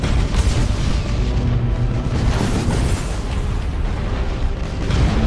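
In the video game Battlefleet Gothic: Armada, an Imperial escort ship blows apart in a loud, continuous rumbling explosion that booms and roils heavily for several seconds with no pause.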